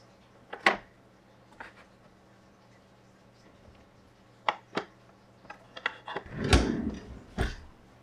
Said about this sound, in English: I'm also gonna check my drawers here and see if there's anything that we haven't